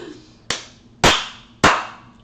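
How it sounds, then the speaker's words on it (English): Three loud, sharp hand claps in a quiet room, evenly spaced about half a second apart, each with a short ringing decay. "Oh, that clap was loud."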